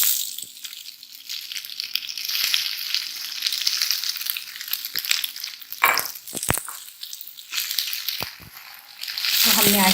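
Yellow pasta is stirred into potatoes fried in oil with black pepper and salt, giving a soft sizzle broken by scraping and sharp clinks of a utensil against the pan, close by.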